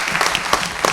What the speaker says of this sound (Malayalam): ആദ്യത്തെ കൈയടി രാജാ സാറിന് പ്ലീസ്